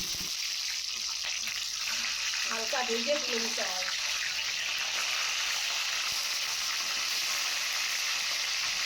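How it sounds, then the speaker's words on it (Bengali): Magur fish fries in oil in a kadai with a steady, fairly quiet sizzling hiss throughout, and a short murmur of voice rises briefly near the start. "মাগুর মাছ একটু ভেজে তারপরে তুলে নিতে হয়"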